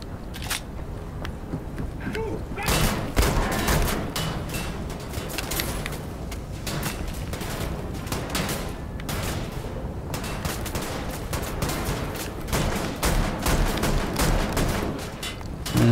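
Dense, continuous bursts of gunfire from a shotgun in the video game Wolfenstein: The New Order, loud and close, with booming blasts packed throughout and no clear gaps between shots.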